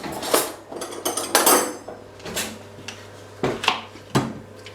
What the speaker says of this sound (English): we're going to cut that up small and throw it into the saucepan